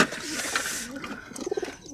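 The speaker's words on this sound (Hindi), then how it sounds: "तो अभी सारे कबूतर पिंजरे के अंदर बंद हो चुके हैं" Pigeons shut inside a cage give a few soft coos and rustles at close range.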